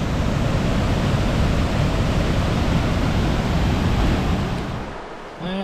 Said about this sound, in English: If you can hear me with the noise of the water